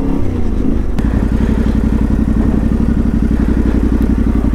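An off-road motorcycle rides a dirt trail in Lithuania, its engine a loud, steady, close pulsing drone with a rhythmic beat, with light clatter and one sharp thump near the start.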